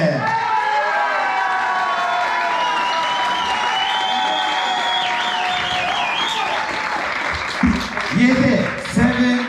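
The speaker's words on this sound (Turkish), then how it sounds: "Just applause, don't shout please." Sustained audience applause fills a hotel club beauty pageant hall in Alanya, a steady wash of clapping with some crowd murmur and voices over it, swelling with louder bursts near the end.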